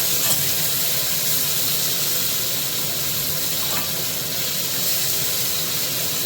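Onions sautéing with salt in a pan, giving a steady, continuous hiss and sizzle that stays even throughout with no talking.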